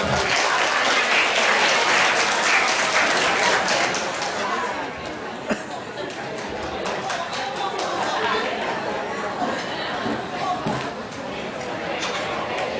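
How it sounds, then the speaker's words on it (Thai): A hall audience at a ceremony gives loud, sustained applause that fades slightly, mixed with crowd chatter and voices. "ขอเสียงปรบมืออีกครั้งนะครับ"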